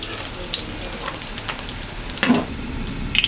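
Chopped onion goes into the hot oil left after frying katla fish pieces. A steady, close sizzle runs throughout, with a brief louder crackling burst partway through.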